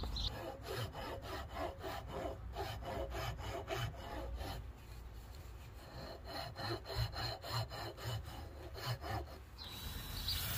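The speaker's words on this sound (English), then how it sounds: "A little bit of hand filing just to help with the circumference of the spool." A spool for a handline slingshot is hand filed around its circumference, giving steady, close rasping strokes in an even back-and-forth rhythm throughout.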